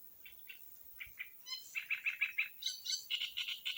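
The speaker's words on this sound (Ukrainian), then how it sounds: "Птички співають." Small birds chirp and trill outdoors near a pond where duckweed is being gathered, with quiet scattered calls at first, then a steady run of rapid, high repeated tweets close by. No talking.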